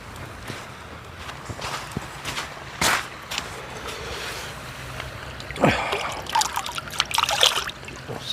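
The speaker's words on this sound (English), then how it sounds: "I'm by the river. I can rinse my dishes off good." Dishes are rinsed in a river at a riverside campsite: irregular splashes and sloshes of water come in bursts over a quiet background of flowing water, close and moderately loud, with no talking.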